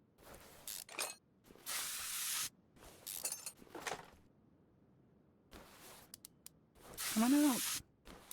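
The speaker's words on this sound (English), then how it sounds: "Just needed a little convincing with the WD-40" WD-40 lubricant sprays in several short hissing bursts, loud and close, separated by quiet gaps with a few small clinks.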